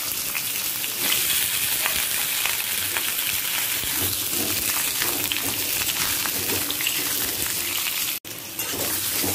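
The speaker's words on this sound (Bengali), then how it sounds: "এরপর আলুগুলোকে হালকা লাল করে ভেজে নেব" Potatoes fry in hot mustard oil over a medium-high gas flame for a chicken curry, a steady close bubbling sizzle with occasional stirring scrapes, cut off by a brief dropout near the end, with no talk.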